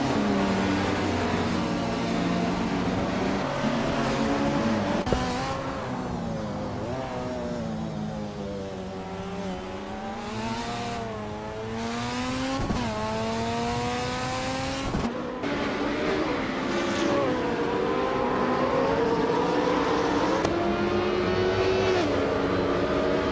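Engines in a racing video game, including a 2017 Cadillac DPi-V.R, rise and fall continuously in pitch through gear changes and passes, with a few sharp shifts, a loud, busy motor roar throughout and no voices.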